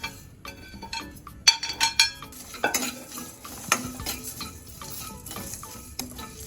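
Whole spices, including cinnamon stick, cardamom pods and shahjeera, are dry-roasted in a pan and stirred with a utensil, making close, irregular scraping and light clinking rattles without talk.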